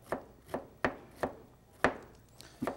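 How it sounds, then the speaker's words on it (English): Knife chopping ingredients for apple chutney on a cutting board: about eight sharp, close chops at an uneven, unhurried rhythm, with quiet pauses between and no talk. "And now I'm just going to chop for a while."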